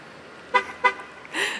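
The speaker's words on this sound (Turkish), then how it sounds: "İki kere kilide basıyorsun." Two short, close horn toots from a rental SUV as the key fob lock button is pressed twice in the United States, followed by a brief chirp-like tone.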